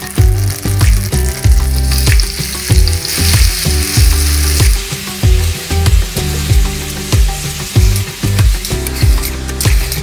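Sliced sausages fry in a pan, with a loud steady sizzle and repeated clinks and scrapes of stirring close by, and nobody speaking.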